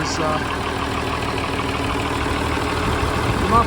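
An International Harvester 1486 tractor engine with an exhaust leak at the muffler inlet idles steadily with a rough, chugging drone, close and loud throughout.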